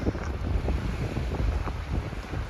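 Steady wind buffeting the microphone at a lakeside campsite, a continuous low rumbling roar with gusty swells and no speech.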